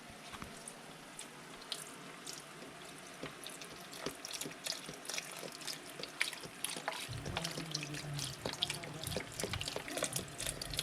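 Broth from a 32-ounce box pours into a crock pot with a faint, continuous liquid trickle and splash that grows fuller and louder partway through.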